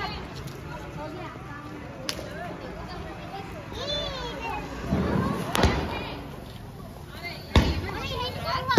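Diwali firecrackers bursting outdoors at night, a few sharp loud cracks and bangs spaced out over a bed of distant crackling, children's voices and chatter throughout.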